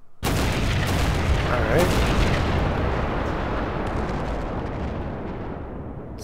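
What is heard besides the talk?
soldiers firing at Germans in a war video game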